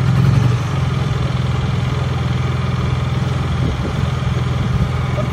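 A Honda EU3000is inverter generator runs steadily nearby after its choke is shut off, a loud, even engine drone with a slight dip in pitch early on and no talking.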